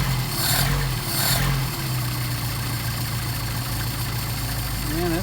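A Mercedes 190SL engine fitted with Solex carburetors idles steadily while warming up on a cold day, a continuous close mechanical hum with a faint rhythmic pulse.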